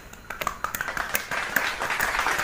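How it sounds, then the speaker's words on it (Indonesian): A small studio audience claps for a comedy quiz show, a scattered patter of hands that builds into steadier applause over a couple of seconds. "Terima kasih tepuk tangannya."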